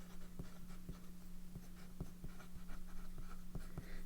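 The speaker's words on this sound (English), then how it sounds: "to make sure that the pen writes, we're going to do a little writing sample" A Lamy Studio Black Forest fountain pen, 2021 special edition with a broad nib, scratches across paper in a quiet run of short strokes and taps under a steady low hum, with no talking.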